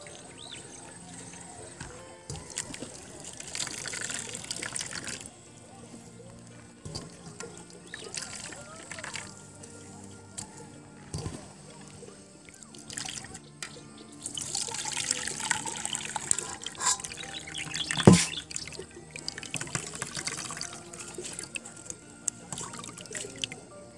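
Grated coconut being squeezed by hand to separate the first coconut milk for Bicol Express: intermittent wet trickling and dribbling of liquid into a bowl, soft and close, with a person talking throughout.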